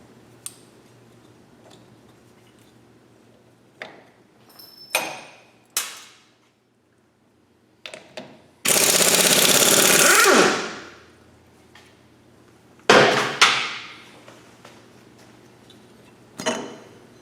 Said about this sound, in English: Next we're going to remove the cotter pin and the castle nut so we can take the hub off.